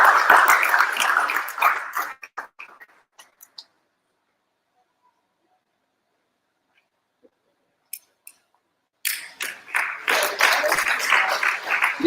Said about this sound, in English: Keep clapping till she sits down.